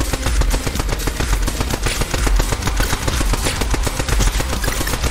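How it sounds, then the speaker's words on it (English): Rapid automatic gunfire from a weapon in a video game that speeds up the longer it is held, a dense, loud stream of shots running without pause and without any voices. "the longer I have this gun held, the faster it fires"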